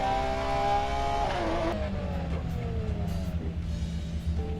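A car engine in GTA revs high and then drops in pitch as it shifts down, settling into a lower steady rumble with intermittent bursts.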